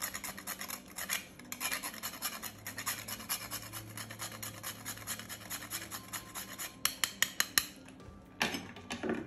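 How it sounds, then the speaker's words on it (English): Nutmeg is rubbed against a grater in repeated short rasping strokes, quiet and close, with a few sharper scrapes and taps near the end. "Grate approximately half a teaspoon of nutmeg."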